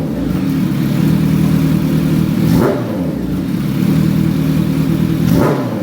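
A 2024 Kawasaki Ninja H2 motorcycle with an upgraded aftermarket exhaust revs loudly up close, holding a heavy growl for two long stretches, each ending in a sharp throttle blip.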